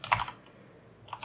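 Typing on a computer keyboard, a quick burst of clattering keystrokes up close, then a short pause before a couple more key taps at the end.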